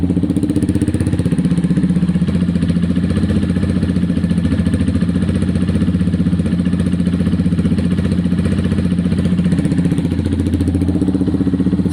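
A Honda CBF 125 motorcycle idles steadily through its exhaust on first start-up, a loud, even low-pitched putter with a fast regular pulse that holds unchanged for the full twelve seconds, close by with no talk.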